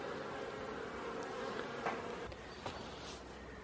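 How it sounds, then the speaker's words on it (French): Honeybees buzz in a steady, fairly faint drone as they fly around a strong, well-populated wooden beehive on a January morning, with no voices. "Là, on voit que la ruche en bois cordé, la ruche forte, aussi est en activité ce matin"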